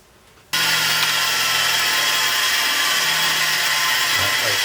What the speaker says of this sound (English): Cut that out on the bandsaw.